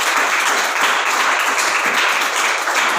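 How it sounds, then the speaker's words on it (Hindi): A church congregation claps together, a loud, sustained wash of many hands at a fairly even rhythm, filling the room for the whole stretch. "यदि आई है तो ताली नहीं बजा सकते?"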